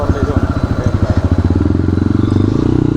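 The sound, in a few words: modified motorcycle riding in traffic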